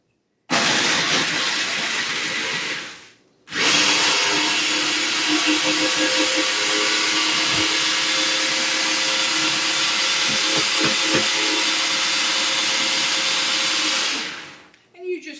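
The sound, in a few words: Oreo cookies being pulverized in a blender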